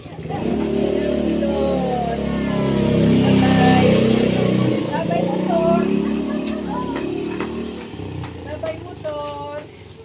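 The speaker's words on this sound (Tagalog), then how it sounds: "Andyan ang motor." A motorcycle engine drones loudly and steadily past for several seconds, fading toward the end, with people's voices talking and calling out over it.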